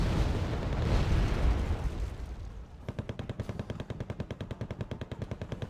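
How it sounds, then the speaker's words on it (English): Gunfire and explosions in the Wargame AirLand Battle video game: a loud, rumbling blast fades out, then a rapid, even burst of machine-gun fire rattles on steadily. "There's some more firing on the concourse."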